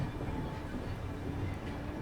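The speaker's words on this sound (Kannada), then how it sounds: "ಲೈನ್ ಸ್ವಿಚ್ ಮಾಡ್ಕೊತೀವಿ ನಾವು." Aboard the Kolkata–Radhikapur Express as it crosses track points onto another line, a steady low rolling rumble of wheels and carriages carries on without pause, with no speech.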